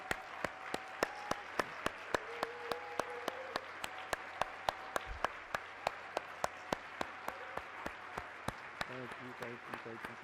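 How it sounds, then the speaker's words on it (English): A concert-hall audience at a performing-arts closing plenary gives a round of applause, a steady crowd clatter with sharp regular claps standing out, while a voice speaks over it. "Please give them all the round of applause they deserve."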